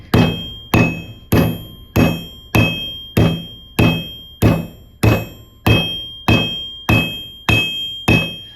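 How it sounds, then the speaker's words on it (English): A sledgehammer pounds a copper bracelet flat, striking about thirteen times in a steady, evenly spaced rhythm of loud, close metallic thunks with short ringing tails. "we are using the sledgehammer on this. I want it to be pretty flat."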